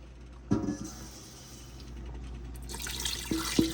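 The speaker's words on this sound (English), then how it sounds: "now we're gonna add about 4 cups of water" Running water splashes into a pressure cooker for oxtail stew, with a couple of sharp metallic clinks at the start and end, moderately close.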